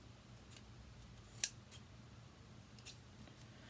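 A few faint, crisp snips of scissors, one sharper click standing out, over a quiet low room hum with no talking.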